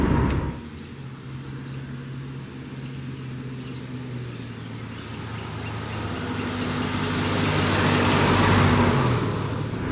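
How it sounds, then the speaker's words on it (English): A 2007 Ford Ranger four-cylinder pickup drives along a road at a steady cruise. Engine drone and tire noise hold even throughout, swelling toward the end as the truck speeds up, with no voices. "I hope you guys enjoyed coming along for my little cruise out here with the little Ranger"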